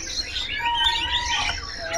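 A young female oriental magpie-robin chirps in quick, busy bursts of bright, varied tweets, fairly close and continuous over faint background noise.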